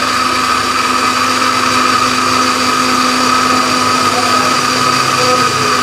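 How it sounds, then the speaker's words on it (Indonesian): An electric blender whirs steadily while mixing a batter of 12 eggs, a loud, continuous motor drone with a constant pitch held close up for the whole stretch, with no talk over it. "Kalau nggak di blender nanti tidak bisa nyampur."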